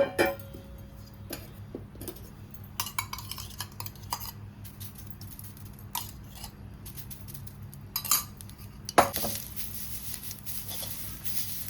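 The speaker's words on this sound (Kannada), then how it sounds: "ನುಗ್ಗೆ ಸೊಪ್ಪು ಹುರಿಯೋದಕ್ಕೆ." Drumstick leaves being stirred and fried in a pan for a chutney powder, with a steady low sizzle and scattered clinks and scrapes of a spoon against the metal pan, close and fairly quiet.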